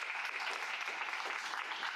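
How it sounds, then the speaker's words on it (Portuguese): Dense applause from a church congregation during a sermon, a continuous wash of many hands clapping at once, steady and fairly bright, with no one speaking. "Uma salva de palmas para esses homens aqui."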